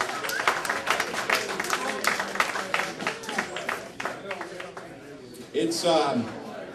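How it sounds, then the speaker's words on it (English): Audience clapping at a poetry reading event, sharp scattered claps strongest at first and thinning out, mixed with crowd voices and murmuring talk toward the end. "Another round of applause."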